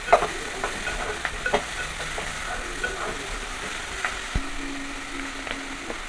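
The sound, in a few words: stirring drumsticks and curry leaves frying in a pan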